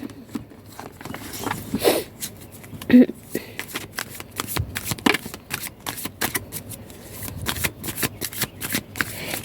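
Tarot or oracle reading cards shuffled by hand in a steady run of soft, papery riffles and flicks, close and fairly loud, carrying on without a break through the whole stretch, with no voice over them.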